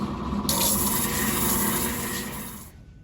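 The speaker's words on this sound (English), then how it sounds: "This is a different kind of polishing pad." Continuous gritty rubbing and grinding of a diamond polishing pad against a hand-blown glass cup, close and fairly loud, lasting a few seconds before fading.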